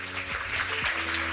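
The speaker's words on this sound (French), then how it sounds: "Fabrice Bonifay, sous vos applaudissements." A conference audience claps in a brief, dense wash of applause, with steady musical tones playing underneath.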